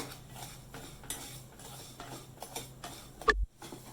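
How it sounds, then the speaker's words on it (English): Wheat halwa is stirred in a pan with a utensil, giving light scraping and clinking strokes at an uneven rhythm that end in one sharp metallic knock, close and fairly quiet. "Don't stop stirring, keep on stirring it"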